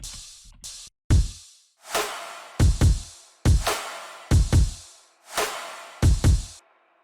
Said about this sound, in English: On top of that we layered some crashes just to give it a little bit more movement